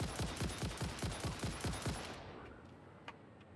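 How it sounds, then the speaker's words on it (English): A gun fires a rapid burst of loud, evenly spaced shots in the video game Satisfactory for about two seconds, then the sound stops and only a faint tail and one small click remain. "Fully load your gun before you shoot this other one."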